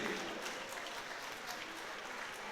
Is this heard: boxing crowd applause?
yes